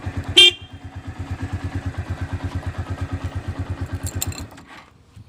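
A loud, modified Honda Phantom 200 motorcycle engine runs close by with a fast, steady pulsing throb, a brief high squeal near the start, then it cuts off.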